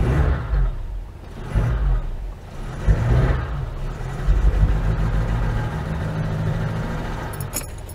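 An Oltcit car engine, running with the carburettor top not yet attached, rumbles loud and close, swelling and easing through several rev surges over a steady low idle.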